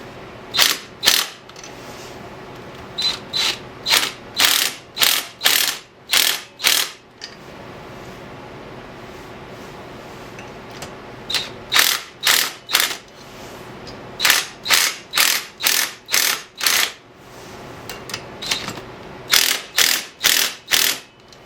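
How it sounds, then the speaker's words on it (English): Ratchet wrench tightening a TG-1 Hi-Flow racing cylinder head onto a Harbor Freight Predator engine, with repeated bursts of loud, close ratchet clicks, several quick strokes per burst separated by short pauses, and no talking. "She's as tight as this wrench will go."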